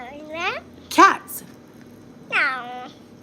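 A voice imitates a cat, giving two drawn-out meows about two seconds apart, with a brief sharp vocal sound between them, close and clear over faint background noise.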